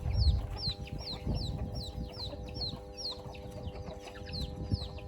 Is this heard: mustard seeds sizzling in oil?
no